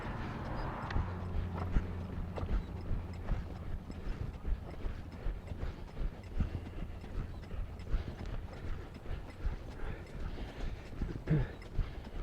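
Steady clip-clop of an off-track thoroughbred's hooves under a rider, a regular walking rhythm that stays at an even distance, with a low steady hum underneath and no talking.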